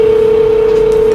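A telephone tone sounds while a call is being placed: one steady, clean tone held at even loudness for just over a second, close and alone with no talking.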